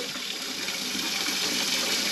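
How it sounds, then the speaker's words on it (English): Hot water pours steadily from a tap into a canning pot holding hot jars on a canning rack, a close, continuous hissing gush with no talking. "Because my jars are hot, I am adding hot water."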